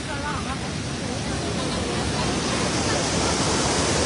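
A mountain waterfall at Geiranger, Norway, tumbling from the summit, a steady broadband roar of falling water that stays constant and fairly loud throughout, with faint voices mixed in underneath.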